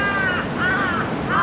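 Several crows cawing close by in repeated harsh calls, set against steady wind noise on the microphone during an outdoor bicycle ride.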